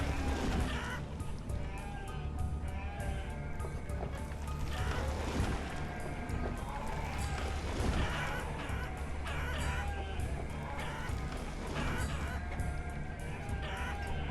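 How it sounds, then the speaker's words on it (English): Chickens cluck and squawk continuously over a steady low background hum in the video game Banished, several birds overlapping at moderate volume with no voices. "The chickens are so noisy."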